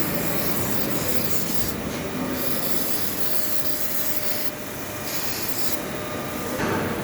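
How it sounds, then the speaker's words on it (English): A weld joint is rubbed clean with a cleaner, a continuous close scrubbing and wiping hiss with slight surges in intensity throughout. "Clean the joint thoroughly with a cleaner."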